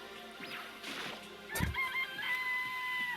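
Chickens cluck and a rooster crows in the video game Danganronpa, mid-loud calls over a busy game soundscape with a brief crash near the middle.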